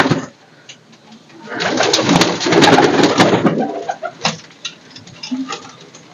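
Fancy pigeons, including Sialkoti birds, coo in a home pigeon setup, with deep throaty coos rising and swelling close by for several seconds, then fading into softer scattered calls.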